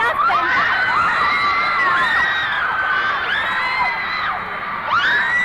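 A dense stadium crowd of fans at the Shea Stadium concert shrieks and shouts nonstop, with high piercing screams rising and falling in waves over a constant roar.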